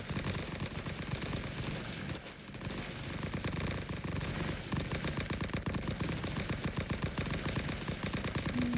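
Dense, continuous gunfire from the Great War video game Rising Front: rapid overlapping shots and machine-gun bursts roar without pause, with a brief lull just after two seconds before the barrage resumes loudly.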